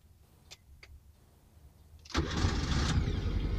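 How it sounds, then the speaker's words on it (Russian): A car fitted with a newly installed starter turns over: a couple of faint clicks come first, then the engine catches abruptly and settles into a loud, rough running roar, heard close with no talking. "мне так сейчас нравится звук, как она заводится, ну типа поставил новый стартер"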